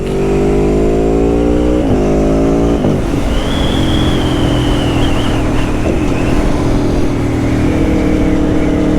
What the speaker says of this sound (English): Oh, that V4. Listen to that. Listen to that bike.